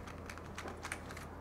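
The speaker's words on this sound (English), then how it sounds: "I like how this keyboard sounds, how you could push this case." Typing on a Delux T9 one-hand gaming keyboard, quiet rapid key clicks in an uneven patter, close up and faint, with a low steady hum underneath.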